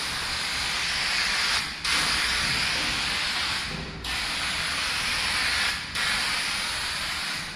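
A Rust-Oleum bed liner aerosol can sprays onto a mini truck in close, loud, steady hissing bursts, with three brief pauses between them and no talking.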